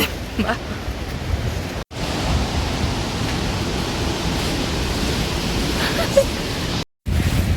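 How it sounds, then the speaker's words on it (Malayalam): A strong, steady wind in the hills of Munnar roars and buffets the microphone with a broad rushing noise, briefly cutting out twice. "നല്ല കാറ്റ്."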